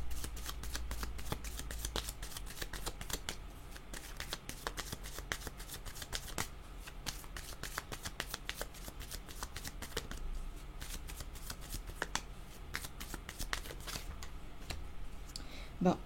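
A deck of oracle cards being shuffled over and over, crisp riffling flutters and soft slaps repeating in a steady busy rhythm, close up and fairly quiet, with no talk.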